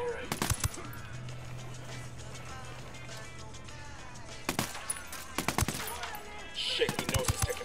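Video game gunfire at a camp, with several sharp rapid bursts of shots scattered through the clip over low background noise, one burst near the start and more toward the end.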